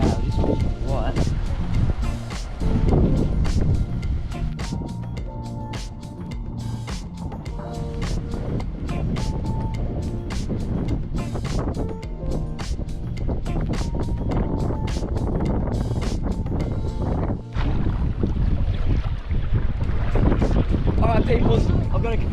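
Strong gusty wind on a white-sand beach at Whitehaven on Whitsunday Island, a loud, continuous roar buffeting the microphone throughout with no talk.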